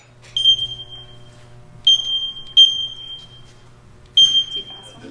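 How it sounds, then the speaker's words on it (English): A firefighter's personal accountability alarm gives short, high, piercing electronic beeps in about four separate bursts with gaps between them, over a faint low hum. "The noise you're hearing, it's called a personal accountability system."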